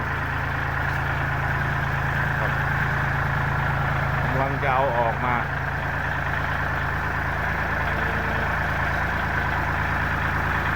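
A tractor engine idles steadily after starting, a loud continuous low rumble with a constant chug that runs unbroken throughout, with someone speaking briefly over it midway.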